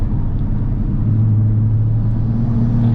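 An MK5 Toyota Supra driving, heard from inside the cabin as a steady low engine drone with a rising tone partway through, constant and fairly loud with no talking.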